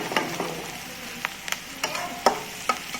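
Chopped onion fries in a pan until reddish-brown while being stirred, giving a steady soft sizzle broken by irregular scraping and clicking strokes of the spoon, close by and with no talk.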